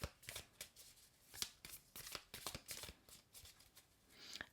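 Tarot cards being shuffled by hand in a quiet room, a steady run of crisp riffling flicks and soft slaps close up, with no talking.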